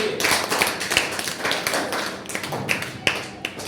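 Students in a classroom clap in a loose, uneven burst of hand claps that runs steadily for a few seconds, fairly close and loud, with no talking over it.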